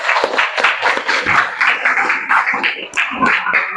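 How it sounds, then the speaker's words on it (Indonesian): A class claps for a student named Anissa, a short uneven burst of scattered hand claps in a small room, close and fairly loud, with some faint voices mixed in. "Tepuk tangan dulu buat Anissa nak."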